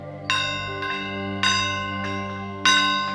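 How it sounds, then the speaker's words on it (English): A bell rung three times in a studio setting, each strike bright and loud with a long sustained ringing decay that overlaps the next, spaced roughly a second apart. "But I'll ring in the bell here, as is customary."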